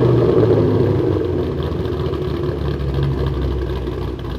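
Ford Mustang GT with a 4.6L 3-valve V8 fitted with Ford Racing cams and intake manifold idles with a lumpy, loud rumble and steady mechanical clatter, heard close up and alone.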